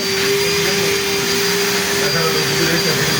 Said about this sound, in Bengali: শেষের দিক দিয়া দেখতেই পারতেছেন কীভাবে বাইসটা ফাইল করতেছে